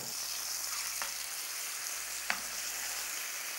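A beef steak frying in olive oil in a pan, giving a faint, steady sizzle with a couple of sharp taps from a utensil or the meat being turned, quiet and without voices.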